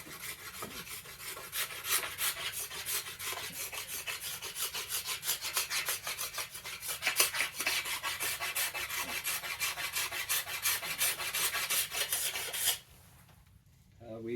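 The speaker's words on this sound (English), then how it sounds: "I'll use the rasp for that one. My gummed up rasp." A gummed-up rasp files a yew bow during floor tillering, making a continuous rapid scraping of close, loud strokes that stops abruptly near the end.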